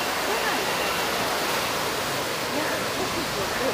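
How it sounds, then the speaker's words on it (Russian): Powerful ocean surf breaking on a beach at Mirissa, Sri Lanka, a loud continuous wash of roaring waves close by, with faint voices in the background. "Вот это я понимаю. Океан."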